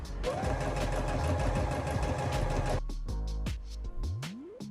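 A sewing machine stitches a folded fabric hem in a fast, rattling run of close, loud needle strokes. It then stops, leaving a few clicks and handling noises.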